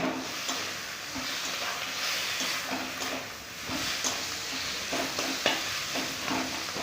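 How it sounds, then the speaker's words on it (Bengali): Spice masala with turmeric, coriander and cumin powder and chopped tomato is stirred and sautéed in a pan, a steady close sizzle with scraping stir strokes running throughout and no voices. "ভালো করে মশলাটাকে কষিয়ে নেব"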